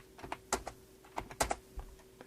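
Mouse clicks while drafting a revolved section view in CAD software: roughly a dozen quiet, sharp, irregularly spaced clicks, some in quick pairs, with no voices.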